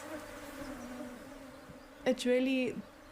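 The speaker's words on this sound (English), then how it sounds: "thanks to these beautiful bees. Look at them hanging." Bees buzzing at a hanging hive in Africa, a soft steady hum close by with a louder buzzing pass near the end.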